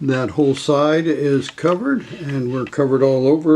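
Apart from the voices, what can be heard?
No distinct noise like a dog, phone or traffic.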